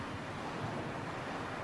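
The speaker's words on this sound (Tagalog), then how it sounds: "Ang ganda talagang panoorin ng dagat." Sea waves wash in a steady, broad rushing hiss, fairly loud and uninterrupted, with no voices.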